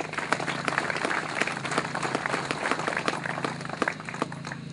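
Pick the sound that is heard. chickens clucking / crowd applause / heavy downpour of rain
crowd applause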